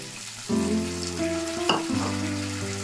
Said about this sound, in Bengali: দিয়ে এবার হালকা করে নাড়াচাড়া করব।